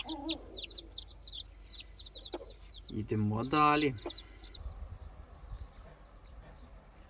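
A mother hen clucks low and steadily among her brood while tiny chicks peep in high, rapid chirps nearby; someone speaks briefly under the farmyard sounds.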